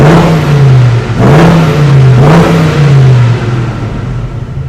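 A 1972 Chevrolet C20 truck engine revs hard three times in succession, loud and close, each rise swelling then easing back to a steady idle growl.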